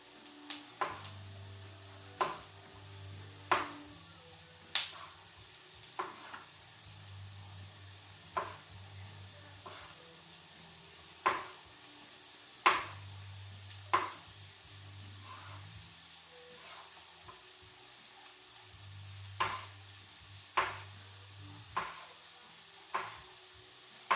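A knife slices mushrooms into thin slivers on a cutting board, giving crisp, separate taps every second or two over a low background hum, with short pauses between runs of cuts.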